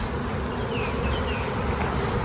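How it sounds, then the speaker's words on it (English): Dense, steady buzzing of a large number of honey bees swarming around overwintered nucleus colonies during a hive inspection, a continuous close hum with no talking. "just a miraculous amount of bees"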